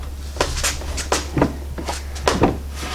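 A drawer in a Milwaukee jobsite cabinet being slid in and seated, giving a series of close, sharp plastic knocks and clicks in an irregular rhythm over a low steady hum.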